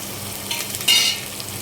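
Onions go into a hot pan with green chillies for kichadi. A short, close sizzle flares up as they hit the oil and then settles into a steady crackle.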